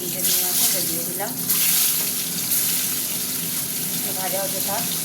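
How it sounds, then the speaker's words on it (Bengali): Eggs frying in oil in a pan, a steady close sizzle with faint voice-like sounds briefly rising above it. "এই যে ডিম ভাজা হচ্ছে"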